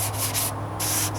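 Sandpaper scuffing the painted hood of a 1998 Toyota Corolla in close, steady rubbing strokes that rise and fall in rhythm, with a constant low hum underneath.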